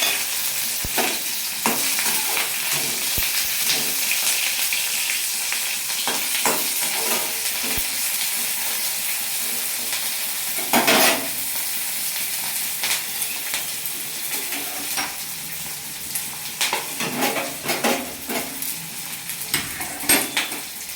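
Chopped onions and green chillies fry in a pan of hot oil, a steady loud sizzle with occasional scrapes and clinks of a spatula stirring against the metal, no talking.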